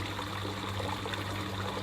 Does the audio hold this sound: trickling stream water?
yes